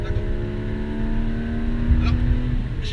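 Porsche GT3 RS with 500 hp drives on a race circuit, its engine a steady, close, sustained tone heard from inside the car, with a brief surge late on.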